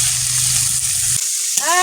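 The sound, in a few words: prawns frying in hot oil in a wok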